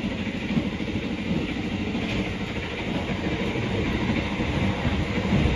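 A KA Taksaka train travels from Jogja toward Jakarta past Jenar station, heard from on board as a steady, loud rumble of wheels and carriages with faint clicking throughout.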